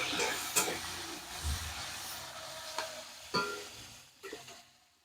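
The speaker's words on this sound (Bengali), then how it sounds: "পেঁয়াজ কুচি দিয়ে দেওয়া হয়েছে ব্যাস এবার আমি এটাকে নেড়ে দেবো" Chopped onions frying in a pan while being stirred, a soft steady sizzle broken by several scraping, clattering spoon strokes, fading out at the end.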